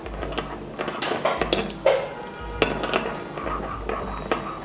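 A spoon stirs sugar into half a cup of hot water in a small vessel, ringing out in repeated clinks and scrapes against the container at an uneven rhythm, close and fairly loud.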